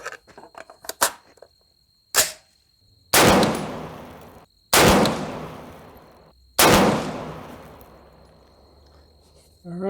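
Three loud, sharp 6.5 Creedmoor AR10 rifle shots with reloaded ammunition crack out at a range a few seconds apart, each followed by a long decaying echo, with fainter clicks and handling noises before them.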